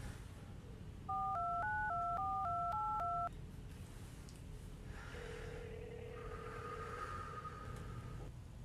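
Telephone keypad tones beep in a quick run of about eight dual-pitch presses, steady and clear over low background rumble, then give way to a softer sustained tone.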